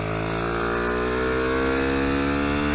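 A Kayo MR125 mini-GP bike runs on a kart track, its small single-cylinder engine droning loud and close with a steadily rising pitch under throttle.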